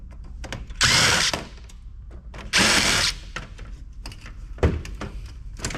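A power drill backs screws out of a fan on an Alienware gaming PC in two loud whirring bursts, surrounded by lighter clicks, taps and handling noises close by.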